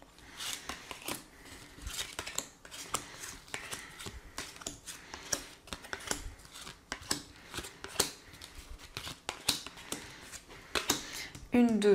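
Cards are shuffled and laid out for a card reading, a continuous close rustle of crisp flicks and slides throughout, with a faint voice in the background.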